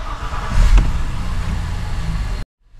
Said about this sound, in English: All right, let's fire her up.